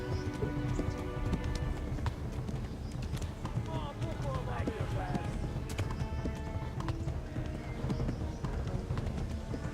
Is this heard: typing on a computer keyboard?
no